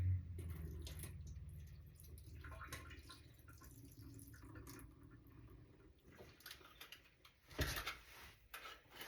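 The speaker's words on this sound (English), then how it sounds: "I'm going to drain this corn." Liquid drained from corn while making potato and ham chowder in an Instant Pot, a soft continuous watery trickle and splash that is faint and steady with a brief louder splash near the end.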